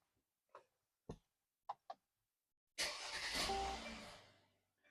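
A 2019 Mercedes E450 wagon engine cranks and catches after an oil change, settling into a steady idle that fades out, preceded by a few sharp ticks and clicks.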